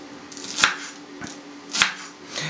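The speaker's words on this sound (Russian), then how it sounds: "Берем кинзу и меленько ее нарезаем." A kitchen knife chops fresh cilantro finely on a cutting board, with four sharp, distinct strikes spaced evenly about half a second apart against a quiet background.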